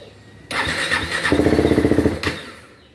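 A KTM Duke 390 motorcycle engine with a hard-starting problem cranks with a rapid rhythmic chugging, sputtering for a couple of seconds without fully catching, loud and close.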